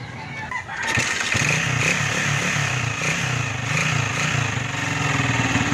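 A noisy Honda TMX 155 motorcycle engine starts after a brief quiet moment, then idles loudly and roughly with a steady chugging rhythm, close by.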